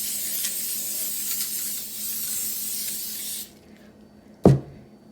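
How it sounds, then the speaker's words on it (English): A steady hiss of non-stick cooking spray onto a cupcake pan runs for about three and a half seconds, stops, then a sharp knock of the pan being set down. "So the first thing you want to do is spray it."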